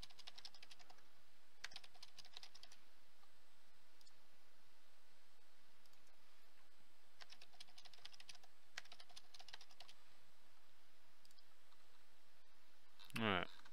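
A password being typed on a computer keyboard during a Dell PowerEdge server software installation, heard as faint scattered clusters of key clicks over a quiet hiss. The clip ends with a brief loud burst.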